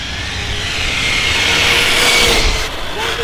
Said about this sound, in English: All I have to do is breathe on the throttle and the thing is like full bolt.